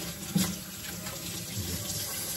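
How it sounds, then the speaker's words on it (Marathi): A household water tap runs in a continuous close splashing stream, steady and unbroken with no one speaking. "थोडा नळ कमी कर ना मग."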